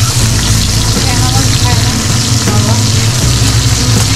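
Fish seasoned with salt and turmeric frying in hot oil, a steady loud sizzle throughout with a low background rumble and faint voices underneath.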